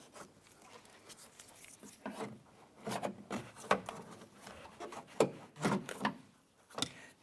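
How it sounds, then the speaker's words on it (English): A plastic trim tool pries an interior door handle out of the door panel of a 1993-1997 Ford Ranger, making scattered close scrapes, creaks and small plastic clicks. "Use your trim tool. Go ahead and work this handle out."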